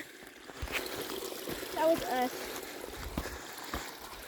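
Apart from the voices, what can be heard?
water flowing in a rain-fed stream waterfall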